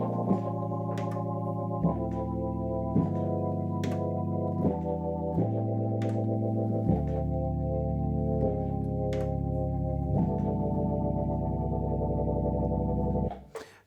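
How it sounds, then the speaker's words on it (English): Dexibell S7 stage piano playing a jazz organ sound with a Leslie effect, sustained chords held for a second or two each, smooth and steady with light percussive key clicks, then cutting off at the end. "So I've got a jazz organ."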